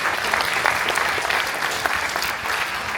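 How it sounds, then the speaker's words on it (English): An audience in a lecture hall applauds after a fireside chat, a dense, steady wash of clapping from many hands, close and loud throughout. "Please give a hand of applause to them."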